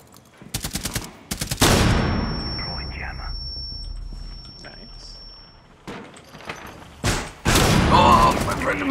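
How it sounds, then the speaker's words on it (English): Shotgun gunfire in the video game Rainbow Six Siege: a rapid cluster of loud close blasts, a lull with a ringing tone and movement sounds, then more heavy bursts, with voices talking over it. "That's a lot of shotguns."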